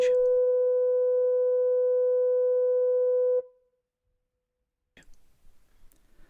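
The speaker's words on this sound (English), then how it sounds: "It had been superseded by a higher-pitched electronic signal with a much reduced audible range." Higher-pitched electronic fog signal at the Portland Bill lighthouse sounds one steady tone for about three seconds and then cuts off, leaving silence and then a few faint clicks.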